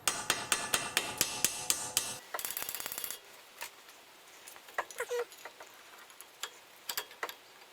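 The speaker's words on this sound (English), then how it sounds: "Need to tap that in a little bit." Sharp metal taps on a part being seated on the front brake of a 2007 Mercedes C-Class W204 Kompressor, a regular series of about eight close, loud knocks, then a quick flurry of lighter taps and scattered faint clicks.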